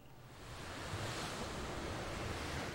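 Ocean waves roll and wash near a ship in the video game Legend of Mana, a steady, fairly loud surf hiss that swells in the first half-second and then holds evenly, with no talking.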